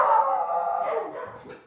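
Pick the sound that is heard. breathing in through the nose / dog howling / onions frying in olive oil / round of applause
dog howling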